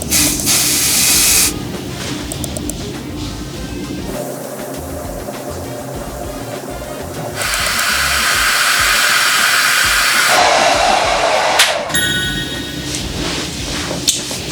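A hair dryer blows steadily at close range while setting styled hair, its broad hissing whoosh shifting in pitch and strength as the airflow setting changes.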